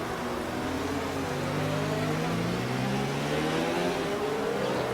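Formula 1 car engine in a racing video game around the Monaco swimming pool section, holding steady loud revs with rising and falling pitch sweeps as gears change, continuous and close with no talk.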